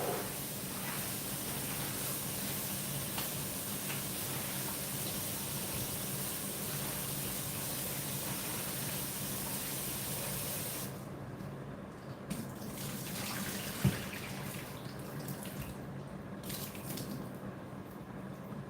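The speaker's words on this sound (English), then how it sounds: "I'm gonna wash this first and then turn it off" Tap water runs steadily at a sink while something is washed under it, a constant broadband rush that drops away partway through, leaving softer drips and handling noises, with no voices.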